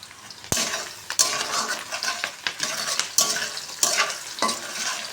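Chopped onion, green chilli, whole garam masala and bay leaf frying in mustard oil, a close sizzle broken by repeated spatula scrapes and metallic knocks against the pan in an uneven stirring rhythm.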